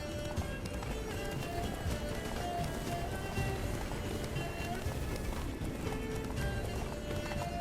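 Roach, the horse in The Witcher 3, gallops in a steady rapid run of hoofbeats over a dense, loud game soundscape while voices talk over it.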